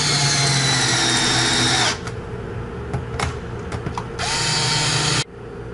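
Cordless power drill driving screws into a Volvo VN/VNL semi truck instrument cluster: two steady whirring runs separated by a short pause with clicks and handling noise, close and loud.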